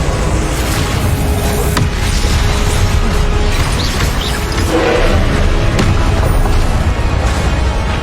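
Confringo, an explosive fire spell in the video game Hogwarts Legacy, booms continuously with a dense, loud roar and crashing mechanical rumble through the whole stretch, with no gaps.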